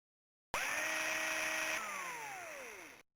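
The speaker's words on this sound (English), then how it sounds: "Thanks for the little drill sound, and it just keeps on drilling." A synthesized drill sound from the Tex Murphy: Mean Streets video game whines at a steady pitch, then winds down in a falling tone before cutting off abruptly.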